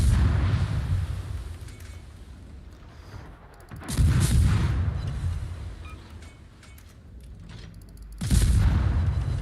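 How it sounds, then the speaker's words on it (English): Heavy naval guns boom in World of Warships, two big salvos about four seconds apart, each a loud deep blast trailing into rumbling decay over a steady low battle drone. "Okay, he did fire his guns."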